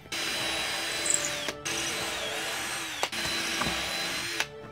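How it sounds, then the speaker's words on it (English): A power drill bores holes into wood for the blocks of a DIY nativity stable, running steadily in three long bursts separated by brief pauses, close and loud with no talking. "now you can drill your holes for your blocks"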